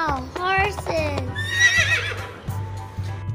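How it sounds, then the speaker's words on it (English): A horse gives a loud, close whinny with falling pitch in the first second or so. Bright chiming music and a low pulsing backing follow. "H for horse."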